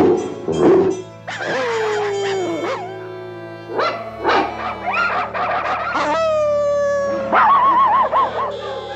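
Dogs bark, yip and howl in a lively overlapping chorus, with a Great Dane and a small rat terrier passing a call along across a city, the sustained howling tones mixing with short yips, loud and close throughout.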